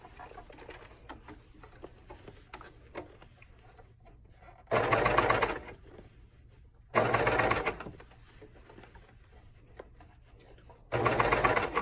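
A coverstitch sewing machine stitches fabric in three loud, fast, buzzing bursts of one to two seconds each. Quiet pauses with faint handling noises separate the bursts.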